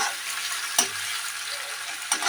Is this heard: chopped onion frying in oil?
yes